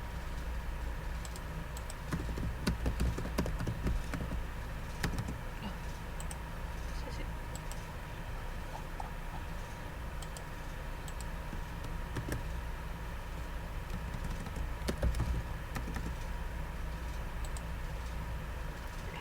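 Computer keyboard keys are tapped in scattered bursts across a steady background hum, with a few sharper clicks standing out near the start and again later.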